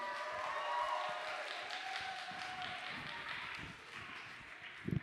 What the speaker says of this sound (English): Can we give George a round of applause,